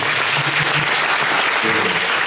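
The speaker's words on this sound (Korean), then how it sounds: "막 어쩔 수 없는 감격에 겨워서 치는 박수 있잖아요" A cinema audience at a film stage greeting gives loud, dense, steady applause throughout, a continuous wash of many clapping hands close by.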